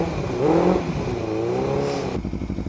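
A Kawasaki motorcycle engine revs up close by, rising and falling in pitch, then drops into a steady, rumbling, pulsing idle.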